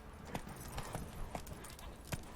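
Horse hooves clip-clopping at a steady walking pace in The Witcher 3, with evenly spaced, moderately loud thuds over a soft game ambience.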